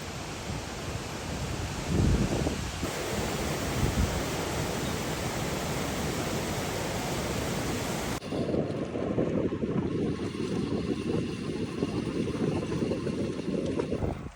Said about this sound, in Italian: Cascate Nardis, spettacolo.